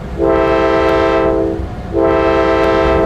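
A CN Railway train horn sounds two long blasts as the train departs, with the rumble and hum of the train moving nearby between them.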